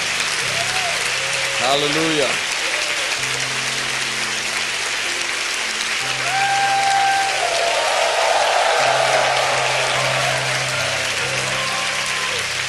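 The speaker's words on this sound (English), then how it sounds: "Let's clap our hands to Him." Congregation clapping hands during a church worship service, the applause running under a loud voice and sustained organ or keyboard tones.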